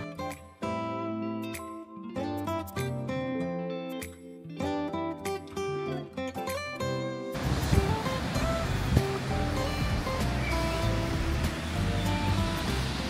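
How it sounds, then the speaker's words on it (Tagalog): Strong ocean waves at Apollo Bay along Australia's Great Ocean Road, a loud continuous roar of surf that takes over after several seconds of music. "Ang lakas ng alon."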